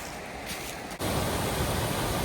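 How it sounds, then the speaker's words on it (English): A small water cascade beneath a hiking trail gives a steady, broad rushing hiss. It briefly dips near one second and then continues loud and constant. "Nice little cascade right there just beneath the trail."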